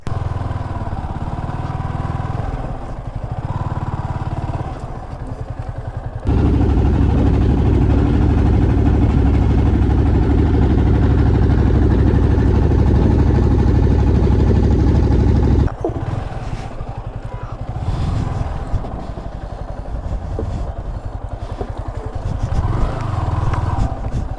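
A Yamaha R15 V3 motorcycle runs on a sandy riverside track, its engine idling, then revving loudly and steadily for several seconds before settling back to a lower running note.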